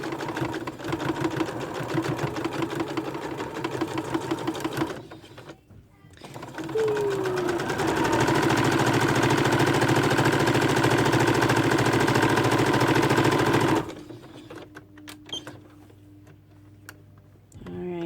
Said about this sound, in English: we're just going to start with a locking stitch back and forth, and you're going to grab those pleats.